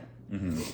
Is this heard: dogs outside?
yes